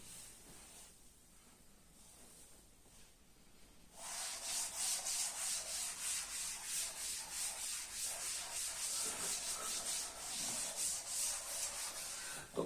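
Rubbing out writing on a board during a differential equations lesson, heard as steady rhythmic scrubbing strokes that start after a few seconds of quiet room tone and continue loud and close to the end, with no talking.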